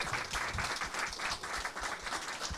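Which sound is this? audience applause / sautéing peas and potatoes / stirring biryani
audience applause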